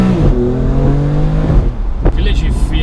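A BMW F80 M3 with a DCT M gearbox pulls hard, loud and close, its engine note climbing in steady harmonics before a sharp break around a gear change, then resuming; a voice talks briefly over it.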